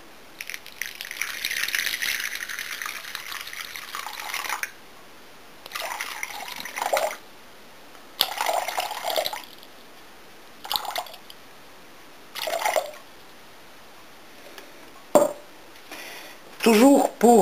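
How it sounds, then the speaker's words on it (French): Lukewarm water is poured over dried yeast in a bowl. Several short bursts of splashing and trickling come close up between quiet gaps, and a voice speaks briefly. "J'ajoute 250 g de l'eau tiède."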